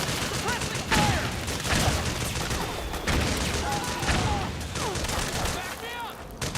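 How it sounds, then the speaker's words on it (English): Suppressing gunfire in the video game Metal Gear Solid 4: Guns of the Patriots, a continuous battlefield fusillade of overlapping rifle and machine-gun shots with heavy reports, soldiers shouting over the steady barrage. "Suppressing fire!"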